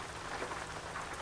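Rain in American Truck Simulator, a steady soft hiss of falling drops pattering on the truck, faint and continuous with a low rumble beneath.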